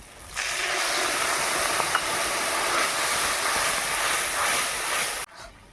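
Spice paste hitting a hot pan of softened tomato and onion in a Bengali drumstick curry, giving a loud, steady sizzling hiss that holds for about five seconds before abruptly dying down.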